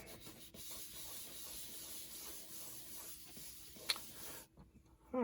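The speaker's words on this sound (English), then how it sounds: "I like these Koh-i-Noor woodless pencils because I can get in there and get some nice shading by turning it on its side." A Koh-i-Noor woodless graphite pencil, turned on its side, scrubs back and forth across paper in a steady close rub for several seconds, then goes quiet near the end.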